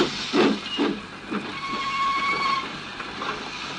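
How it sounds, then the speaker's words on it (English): A steady hiss of steam with a thin, sustained whistle tone rising through the middle, accompanied by chuffing bursts and rumbling machinery. "Presently, he heard a whistle."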